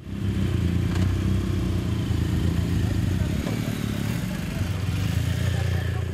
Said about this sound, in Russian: Возглавляет колонну байков международный инструктор Михаил Береснев.